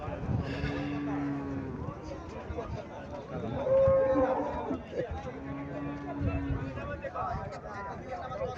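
A Holstein Friesian dairy cow on a farm in Cumilla moos twice in long low calls, near and fairly loud, with people talking and other farm noise between the calls.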